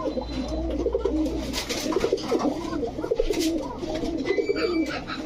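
Pigeons coo steadily nearby, including a large male Pakistani Babra pigeon, with overlapping rolling calls from several birds and a low background rumble.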